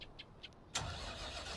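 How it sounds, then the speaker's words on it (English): Combine harvester engine in Farming Simulator 19 cranks into life after a few faint clicks, then settles into a steady, loud running rumble. "Start the engine."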